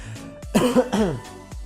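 A single throaty cough or throat clearing, close and fairly loud, followed by brief low breaths or clicks.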